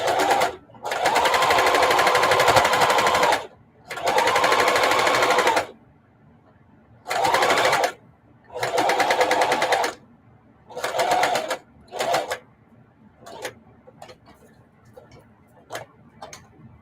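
Domestic sewing machine stitching a quilted mug rug, running in several steady bursts of a few seconds each with pauses between, then short stop-start stitches near the end, close and fairly loud.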